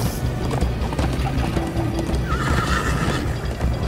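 Horse neighs and clip-clopping hooves in a Minecraft story game during a chase, a whinny rising out of a busy, continuous mix of galloping and game noise, with no clear talk.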